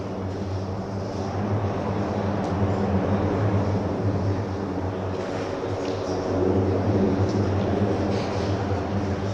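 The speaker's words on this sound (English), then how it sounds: "That is a Lockheed Martin P3." A Lockheed Martin P-3 Hurricane Hunters aircraft takes off in the distance, a steady broad propeller-engine roar with a low droning hum that holds loud and unbroken throughout, without talk.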